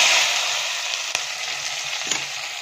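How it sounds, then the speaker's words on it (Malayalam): Crushed shallots and green chillies frying with fennel seeds and salt in a pan for a Kerala prawn theeyal, giving a dense, even hiss that fades slightly, with one sharp tap of a utensil midway and no voices. "ഇത് വഴറ്റിയെടുക്കാം."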